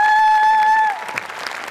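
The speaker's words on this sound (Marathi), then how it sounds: "जोरदार टाळ्या झाल्या पाहिजेत." An audience at a Marathi comedy show breaks into a short burst of clapping, lasting about a second. It follows a held musical tone and sounds moderately loud and close.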